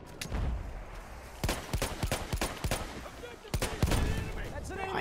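Gunfire in the video game Battlefield 1, from a clunky weapon in a gas-filled match: loud, close bursts and single shots cracking out in quick irregular volleys.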